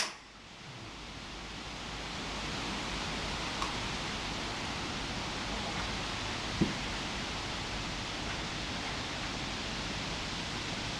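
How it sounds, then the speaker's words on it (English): Steady broadband wind roar buffeting continuously, loud and close, with a couple of faint brief knocks and no talking. "Sorry about the wind."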